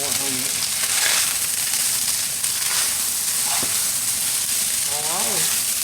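Onions fry in a pan with a constant, dense sizzle that holds steady throughout, close and loud, while a voice murmurs faintly now and then.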